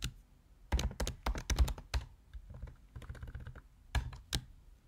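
Keystrokes on a computer keyboard as someone types documentation for a new game project, coming in quick irregular bursts of clicks with brief pauses, close and clear with no talking.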